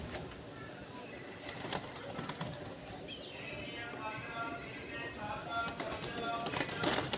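Pigeons trapped inside a net flutter and coo faintly, soft wing flaps and scattered calls at low level, with someone talking quietly nearby.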